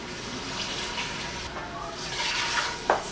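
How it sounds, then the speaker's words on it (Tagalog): Water pours into a pot of beef with soy sauce, vinegar, sugar and pepper for softening, a steady faint splashing stream with a brief sharper splash near the end. "Maglalagay din tayo ng tubig pampalambot po."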